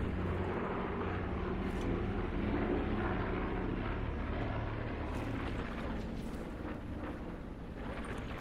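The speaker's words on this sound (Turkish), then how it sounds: "Uçak geçiyor ama bir şey atacak mı bakalım." A propeller airplane drones overhead in the Call of Duty Black Ops 4 Blackout battle royale mode, a steady low rumbling engine hum that holds at moderate distance for several seconds, faint and continuous with no voices.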